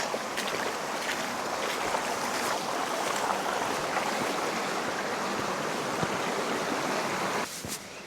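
Steady rushing water of a stream flowing through the Canyon des Gueulards in the Drôme, France: loud, close, continuous broadband flow that drops slightly near the end.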